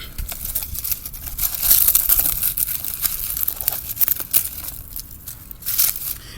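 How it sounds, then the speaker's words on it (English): Rustling, tearing and crinkling noises come in uneven bursts as weeds are pulled from a strawberry container up close, with no talking. "So that entails just getting all the weeds out."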